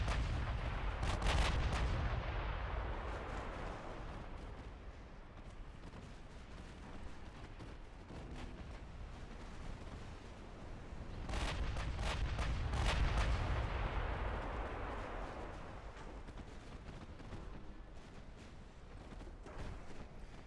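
Heavy naval artillery fire in Ultimate Admiral Dreadnoughts, warships exchanging salvos in battle, with deep booming gun blasts rolling in two loud waves over a continuous low rumble of distant shelling, no voices present.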